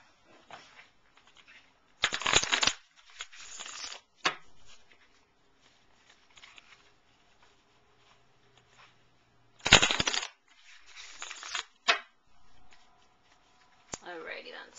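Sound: shuffling tarot cards

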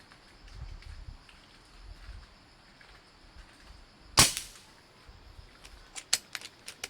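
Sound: gunshots from testing 18-gauge shotgun ammunition

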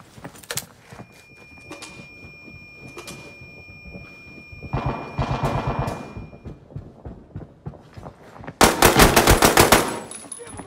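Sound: gunfire from the video game Arena Breakout

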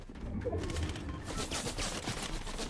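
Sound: gunshots in the video game Fortnite

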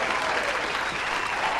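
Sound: crowd applause in a video game match

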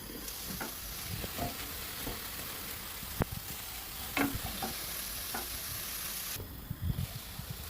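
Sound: chicken sizzling while being stirred in pot

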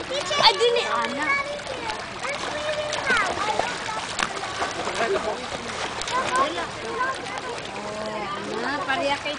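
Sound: child swimming and splashing in pool water

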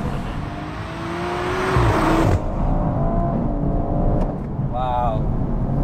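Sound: BMW M140i car engine revving while driving

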